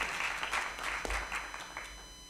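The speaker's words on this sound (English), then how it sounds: "Can you guys clap if that related to you?" Conference audience clapping together in a hall, a short, moderate patter of many hands that swells and fades within a couple of seconds, with no talk over it.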